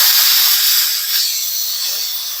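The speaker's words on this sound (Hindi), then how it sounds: "सारा प्रेशर मैंने कुकर का निकाल दिया" A loud, continuous hiss of steam rushing out of a pressure cooker cooking chana dal, steady throughout and slowly easing slightly toward the end.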